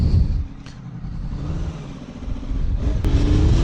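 Sport bike engine on a ride, close up, with a steady loud rumble that rises and falls as the throttle changes, plus wind noise.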